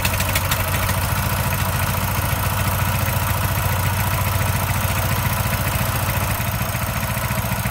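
A Coleman BT200X mini bike engine idles with the choke off, a loud, close, steady low putter that stays even throughout with no talking.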